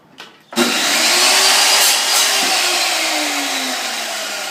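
A power saw cuts a board to length for a karate belt display, starting abruptly after a brief lead-in and then screaming loudly and steadily for about four seconds, with a faint whine that drifts in pitch as the cut goes through.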